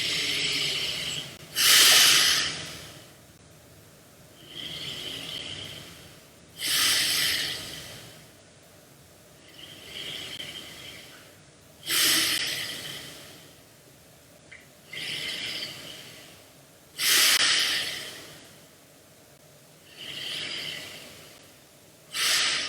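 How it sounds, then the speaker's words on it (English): Deep, slow yoga breaths right at the microphone: about eight cycles of loud, airy inhales and exhales with a steady rhythm, each breath swelling and fading, with quiet pauses between. "I hope you can listen because the microphone is very close to my breath"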